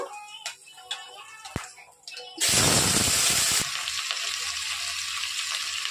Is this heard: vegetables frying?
yes